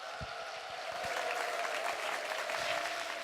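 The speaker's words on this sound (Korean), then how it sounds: "박수로 모시겠습니다" Applause from a church congregation welcoming a gospel singer, a steady dense clapping across the whole stretch with a faint hum beneath and no voices on top.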